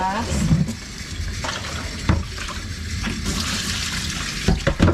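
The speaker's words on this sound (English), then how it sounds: "Just get a little bit of water in there." Tap water runs and splashes into a cleaning product bottle during a quick rinse, a close, uneven gurgling stream broken by a few sharp knocks and clatters.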